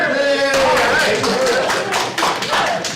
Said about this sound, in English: Give her like a little golf clap like that.